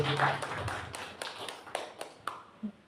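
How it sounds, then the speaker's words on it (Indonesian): A few people clap in a sparse, uneven rhythm at a teacher training session, individual claps distinct and fading out after a couple of seconds. "Tepuk tangan untuk"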